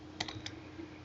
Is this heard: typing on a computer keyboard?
yes